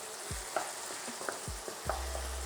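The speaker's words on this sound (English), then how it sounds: "then we can start browning the mince" Beef mince browns in a hot pan with a constant close sizzle, cut by several sharp spatula scrapes and knocks as the meat is pushed around.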